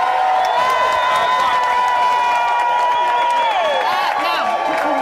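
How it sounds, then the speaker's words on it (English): A studio audience at Big Brother's Little Brother cheers, whoops and applauds loudly and continuously, with high shouted voices riding over the clapping. "Give her a big round of applause."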